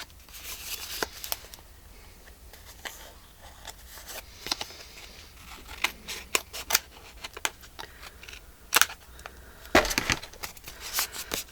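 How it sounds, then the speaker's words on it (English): Scissors snip through paper for a spring daisies journal, a run of close, crisp cuts at irregular intervals with soft rustling and handling between them, no talking. "we'll just trim this up a little bit"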